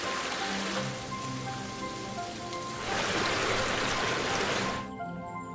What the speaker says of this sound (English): Singalila rejoices in the continuous downpour.